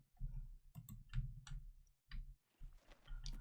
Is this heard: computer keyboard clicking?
yes